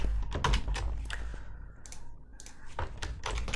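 Clicky computer-keyboard typing comes in quick bursts of keystrokes with short pauses between them, close and fairly quiet.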